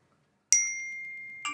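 A phone notification ding sounds once in a quiet painting studio, loud and close, with a bright ringing tone that decays slowly, then a second softer chime follows about a second later.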